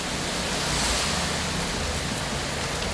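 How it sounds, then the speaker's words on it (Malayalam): Heavy rain pours down in a steady, dense broadband hiss, loud and close, with no pauses and no voices. "മഴയുടെ ശക്തി കൂടി വന്നിട്ടുണ്ട് കേട്ടോ"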